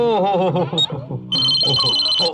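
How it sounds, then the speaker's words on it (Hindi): A voice speaks briefly, then a mobile phone's electronic ringtone starts up, a steady high-pitched ringing that continues to the end. "ये आपका मोबाइल बज रहा है।"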